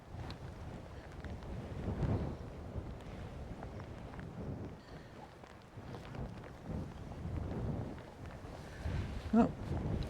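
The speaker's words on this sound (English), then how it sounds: "the wind's got up and it's got really quite cold" Strong, cold wind blows steadily across an open riverbank during salmon fishing, a low rumbling buffet on the microphone that swells and eases throughout with no clear voices.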